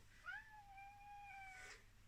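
An angry cat meows close by in one long, drawn-out wavering cry that swells and then cuts off, heard alone against a quiet room.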